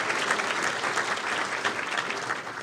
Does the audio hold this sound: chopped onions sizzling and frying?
no